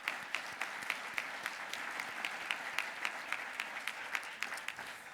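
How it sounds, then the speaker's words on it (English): Applause from a conference audience at a research plenary session, steady broadband clapping with sharp individual claps standing out, moderately faint and continuous with no talking. "we should give them a round of applause for bringing us and making this possible"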